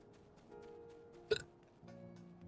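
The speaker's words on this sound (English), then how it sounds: "Hiccups." A single sharp hiccup pops out of a quiet stretch, brief and close, with faint background tones before and after.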